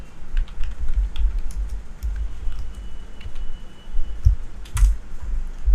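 Fingers tapping out a Google search on a computer keyboard, a close, steady patter of key clicks with a few heavier thumps on larger keys, running continuously without speech.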